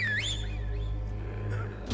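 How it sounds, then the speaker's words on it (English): A character in Marvel's Spider-Man 2 whistles a short rising and falling tune over a low game background hum, clear at first and fading into softer sounds toward the end. "How you whistle like that?"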